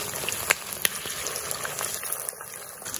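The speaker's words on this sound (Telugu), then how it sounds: "ఒక సైడ్ ఫ్రై అయింది, ఇంకొక సైడ్ మనం ఫ్రై చేద్దాం." Chicken pieces for Payyoli chicken fry sizzle steadily in hot oil, a dense close crackle with occasional sharper pops and spits.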